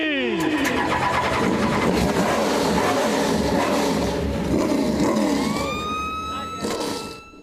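EuroNASCAR Pro stock cars at the NASCAR GP Italy race fire up together, a loud, dense roar of many engines revving, with rising whines toward the end and crowd or announcer sound beneath.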